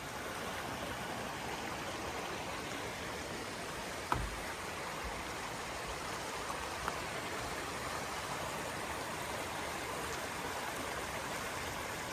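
Small creek near a campground hiking trail flowing steadily, a soft continuous wash of water with no voices, faint and even throughout.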